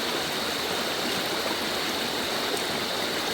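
A loud, steady rush of stream water pours without a break, filling the whole clip like a small waterfall, with no voices.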